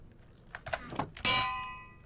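A bell rung in Minecraft gives a bright metallic clang with a long sustained ring, preceded by faint clicks and keyboard tapping.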